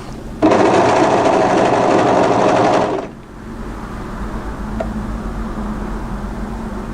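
An overlocker runs loud and steady for about two and a half seconds while sewing straight off the edge of a dress seam at the centre front with ties, then stops, leaving quiet room tone.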